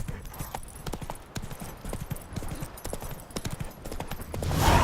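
Roach the horse gallops in The Witcher 3, rapid hoof clip-clops thudding in a quick rhythm, fairly close, with a rising whoosh near the end.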